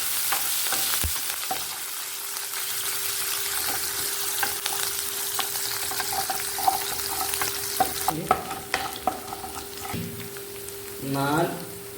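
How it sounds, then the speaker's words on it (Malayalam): Ginger, garlic, green chilli and curry leaves being stirred in a hot pan for lololikka pickle, a steady close sizzle of frying with scraping stir strokes and a few sharper clinks near the end. "500 ഗ്രാം ഇഞ്ചി, 500 ഗ്രാം വെളുത്തുള്ളി, 2 പച്ചമുളക്, ആവശ്യത്തിന് കറിവേപ്പില എന്നിവയിട്ട് നന്നായി ഇളക്കി കൊടുക്കുക"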